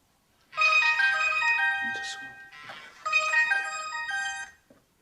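A mobile phone ringtone plays a bright electronic melody in two loud bursts lasting about four seconds, clear and close in an otherwise quiet room.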